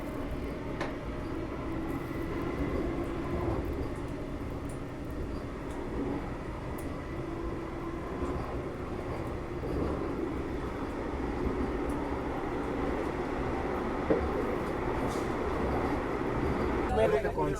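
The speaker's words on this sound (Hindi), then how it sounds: "ओ भाई साहब, ट्रेन ने Chenab railway station Chenab station को पार कर रहे हैं फिलहाल हम लोग।" A passenger train crosses Chenab railway station on the line over the Chenab bridge, heard from aboard as a steady, continuous rumble and rattle of the carriages, with voices talking faintly over it.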